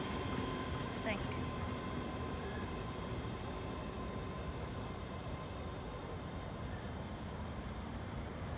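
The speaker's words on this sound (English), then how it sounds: "It's 385002 departing station now." Class 385 unit 385002 pulls out of a station, a broad steady rumble of wheels and traction with a constant whirring hum, fairly loud and unchanging throughout.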